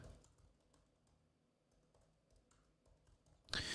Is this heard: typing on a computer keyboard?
yes